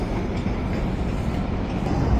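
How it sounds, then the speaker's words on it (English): A CPKC freight train pulls away, its rail cars giving a steady, close rumble with faint clattering throughout, with no voices. "Train is finally leaving"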